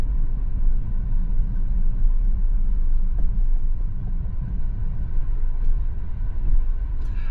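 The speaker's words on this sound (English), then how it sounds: "how do you guys like this Brooklyn traffic" Brooklyn street traffic heard from inside a moving car comes through as a steady, muffled low rumble of engine and road noise that stays even from start to finish, with no talking.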